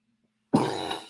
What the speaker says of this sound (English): That's just my, normal coughing that happens every day.